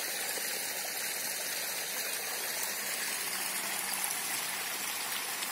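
Irrigation water running steadily to jackfruit plants on a farm in a Rajasthan village on a summer morning, a continuous even rushing flow with no speech.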